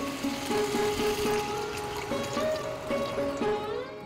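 Water poured into a pan of cauliflower gravy, a steady close trickle and splash running for about four seconds with a faint tonal hum underneath.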